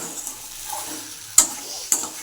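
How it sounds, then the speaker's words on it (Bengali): Fried potatoes being stirred through a cooked-down spice masala with slit green chillies in a pan for hotel-style aloo dum: a soft, steady sizzle with scraping and two sharp utensil clinks near the end. "এখন একটু নাড়াচাড়া করবো ঢাকা দিব না"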